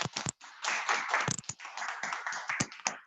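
Audience applause at a network marketing business academy event in Korea, a burst of clapping with irregular hand claps rising and falling over about three seconds, no speech.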